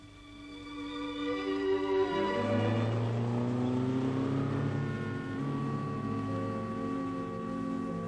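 Somewhere in a 1950s film scene, a car engine rises and settles in a steady, fairly loud drone as the vehicle pulls up, its pitch sliding with no speech over it.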